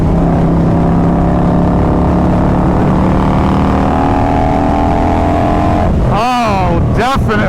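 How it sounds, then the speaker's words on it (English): Harley-Davidson Road Glide motorcycle with carbon fiber wheels accelerating on a highway; a loud, steady engine drone with rising tone and heavy wind roar fills the clip, ending in sharp gusty buffeting bursts. "I can definitely feel that the bike accelerates better"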